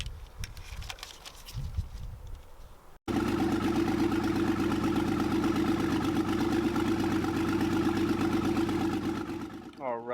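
A Nissan 300ZX engine idling, a steady, loud, even mechanical drone that starts abruptly after a few seconds of quieter background noise and continues unchanged to the end.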